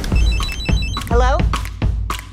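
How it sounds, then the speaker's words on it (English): A waterproof mobile phone rings in repeated tonal bursts, fairly loud and close, mixed with voices and other sounds from a 2022 movie trailer. "Oh no, I lost my phone. Here we go. Ringing."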